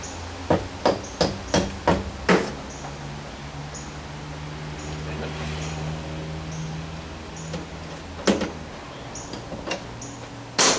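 Sharp metal hammer strikes on a punch held against a bolt, a quick run of about eight evenly spaced blows, then a pause and a few scattered hits, loud and close over a steady low hum.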